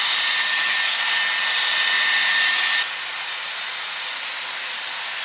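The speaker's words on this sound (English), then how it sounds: "Now we need to blow dry it out." A hair dryer blows hot air over hair at home, a loud continuous whooshing hiss that drops to a slightly quieter setting partway through.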